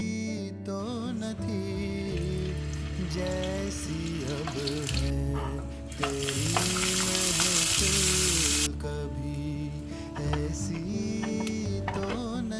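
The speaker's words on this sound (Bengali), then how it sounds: "আমি অল্প তেলে সসেজগুলো প্রথমে ভেজে নিয়েছি।" Loud steady sizzling of sausages frying in a little oil in a pan, continuous throughout with occasional stirring and clattering over it.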